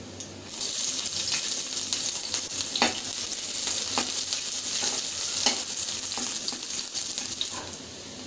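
Chopped onion hits a hot pan and fries with a bright, steady sizzle, punctuated by several sharp clicks of stirring or utensil taps, with no speech.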